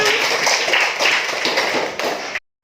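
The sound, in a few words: class clapping hands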